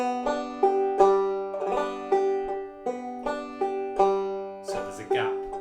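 Plucked strings in a syncopated drop-thumb pattern with the first note of each phrase left out, leaving a gap; repeated bright twangs over low thumb notes, close and steady, with no voice.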